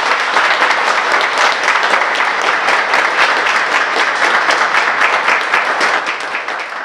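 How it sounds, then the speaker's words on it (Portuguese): Loud, dense applause from a staff crowd at an Oktoberfest community gathering, steady and sustained throughout before easing slightly at the end. "Vou pedir para toda a equipe de funcionários dar uma forte salva de palmas para vocês."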